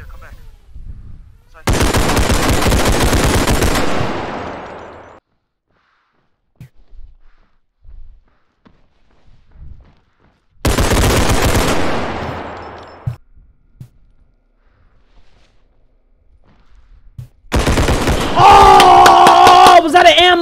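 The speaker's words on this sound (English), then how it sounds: "I can't hear, the gunshots are too loud" Gunfire in the video game Bodycam comes in three long, loud bursts of rapid automatic fire, separated by quiet gaps with faint movement; the last burst overlaps a shout.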